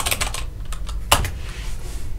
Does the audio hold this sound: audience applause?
no